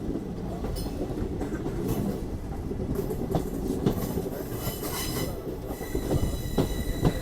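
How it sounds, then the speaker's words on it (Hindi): A passenger express train in uniform livery pulls out of a junction station at seven in the morning, heard as a continuous loud rumble of wheels on rails with rhythmic clatter and wheel squeal, close by and with no talk. "तो सुबह 7 बजे अपना डिपार्चर हो रहा है और बिल्कुल यूनिफॉर्म लिवरी वाली ट्रेन है ये"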